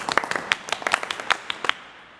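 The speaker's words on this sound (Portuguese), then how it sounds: "Palmas para eles!" A small group claps for quiz participants: a couple of seconds of sparse, close hand claps that quickly thin out and stop.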